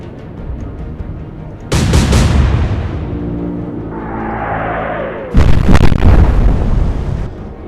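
Naval shell explosions in the Atlantic Fleet warship video game: a loud burst near 1.7 s that decays over a few seconds, then a second heavy blast around 5.3 s with rumbling tails, between quieter background.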